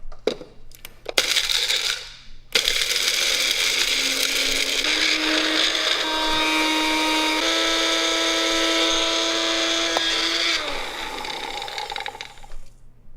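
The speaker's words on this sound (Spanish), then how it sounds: "mejor los eché todos a una batidora pequeña" A few hard rattling clicks, then a small blender grinding material into powder whirs loudly and steadily for several seconds, its motor pitch rising as pieces grind down, before winding off.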